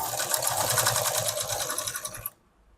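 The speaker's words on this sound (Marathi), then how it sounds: "आता आपण शिवून घेऊया." A sewing machine stitches a blouse yoke seam with a fast, even, close mechanical whir and chatter that runs steadily, then cuts off abruptly near the end.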